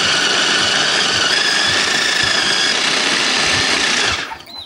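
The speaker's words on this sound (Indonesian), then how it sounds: "Sekarang kita siapkan dulu choppernya, terus kita akan masukkan ayam yang sudah tadi kita fillet." An electric food chopper grinds filleted chicken in a loud, steady, high-pitched whir that runs unbroken for about four seconds before winding down.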